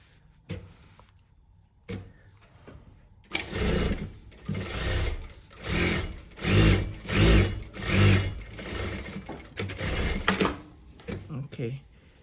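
A sewing machine stitches a zipper pouch in several loud, rhythmic bursts of whirring, each a second or two long, with short pauses between; light handling noises come before and after the runs.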